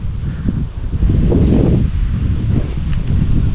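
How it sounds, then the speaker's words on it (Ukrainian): Cold east wind buffets the microphone beside a river with low rumbling gusts and some rustling, steady throughout with a stronger push after the first second. "Ну то що вітер холоднючий, східний."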